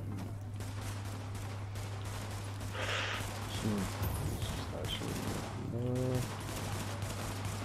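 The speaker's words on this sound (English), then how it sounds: "I'm gonna shoot this bomb" Gunfire in The Division video game, with rapid bursts of shots against steady game background noise. A faint tone and brief voice-like sounds come in partway through.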